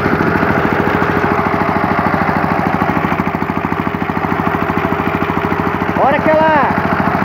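Yanmar two-wheel tractor (tobata) engine running steadily nearby with a loud, even, fast-firing chug throughout; a brief squeal rises near the end and people talk over it.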